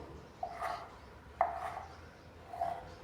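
Kitchen knife chopping rolled semolina and potato dough on a board, three separate soft knocks spaced about a second apart, quiet and close.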